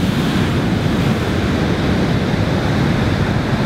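Pacific Ocean waves wash onto a California beach, a loud, continuous roar of surf with wind buffeting the microphone, steady throughout with no voices.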